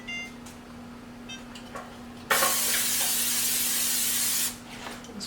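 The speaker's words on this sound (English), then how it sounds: "I'm actually going to spray the top of my peppers a little bit." Cooking oil spray misted over peppers in a pan, a single loud hiss lasting about two seconds over a quiet kitchen background hum.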